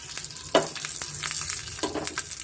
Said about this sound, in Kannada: ಸ್ವಲ್ಪ ಸಾಸಿವೆ ಮತ್ತು ಕರಿಬೇವು ಮತ್ತು ಸ್ವಲ್ಪ ಇಂಗು ಸೇರಿಸ್ತಾ ಇದ್ದೀನಿ